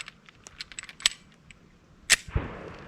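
A Ruger Security 380 pistol fires a Hornady Critical Defense round: one loud, sharp, close shot with a ringing tail and a low thump, preceded by scattered light metallic clicks and handling noises.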